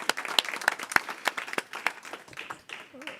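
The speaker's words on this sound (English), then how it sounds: "I know you want to clap, right?" Scattered applause from an audience at a transit authority board committee meeting, a brief burst of sharp individual claps rather than a full ovation, with a few louder hits standing out.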